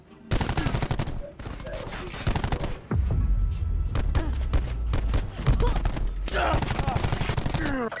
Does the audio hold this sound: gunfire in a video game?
yes